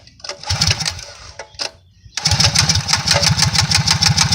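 A small go-kart engine catches after a couple of short cranking bursts and a pause, then settles into a loud, fast, even putter close by, ready for a test drive.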